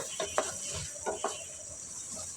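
Whole cardamom, cinnamon, bay leaf, cloves and black peppercorns sizzling in hot oil for a spicy chicken curry, a bright hiss broken by a few quick stirring scrapes against the pot.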